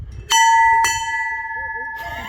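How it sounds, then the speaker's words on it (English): Squadron scramble bell at an air station museum in Montrose, Scotland, struck twice in quick succession, loud and close, leaving a long ringing decay with faint outdoor talk and noise underneath. "Squadron Scramble Bell, ring the bell and run like hell."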